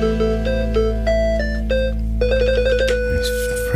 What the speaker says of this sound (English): That's a cowbell sound.